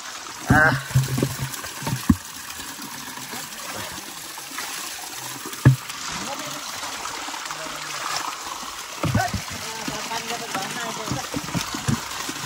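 Fresh well water pours and splashes steadily at close range, with a few louder thumps and clatters along the way, outdoors in a village during the rainy season, while voices murmur in the background.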